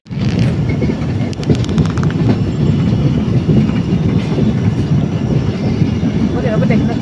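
A passenger train rolls along at night with a loud, continuous rumble and rattle of wagons on the track, faint rhythmic clicks and brief squeaks heard from inside the carriage.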